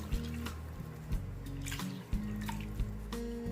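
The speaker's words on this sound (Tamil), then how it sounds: "அரிசி எந்த கப்பால் அளந்தீங்களோ அதே கப்பாலையே 3 டம்ளர் தண்ணி இப்போ நான் சேர்க்குறேன்." Water is poured into rice in a cooking pot while egg biryani is being made. The pour is faint and close, with a few soft splashes and drips breaking a steady trickle, and no voices.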